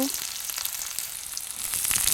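Onions fry in oil in a wok after dried chillies, a short, quiet, bright hiss of sizzling with light crackle and no talking.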